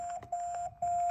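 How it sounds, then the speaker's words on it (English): A 2GIG Pad1 wireless keypad pairing to a GoControl panel gives short electronic beeps, a steady tone broken by brief gaps, close and clean with no talk. "After you hear that beep"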